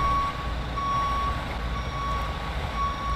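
A tow truck in GTA 5 backs up with a steady, loud electronic reversing beep that repeats over a low engine rumble, with no talking.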